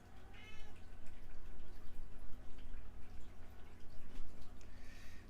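A pet cat named Onyx lets out a couple of short, high meows, one near the start and one near the end, over a steady low hum in an indoor room.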